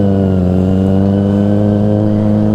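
A top-spec Kawasaki ZX-25RR motorcycle engine runs hard with a loud, steady, buzzing high-revving drone that holds nearly constant pitch throughout, close by, with no talking.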